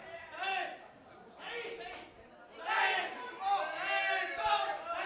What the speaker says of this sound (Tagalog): Listen to that crowd, Noel. Listen to that crowd.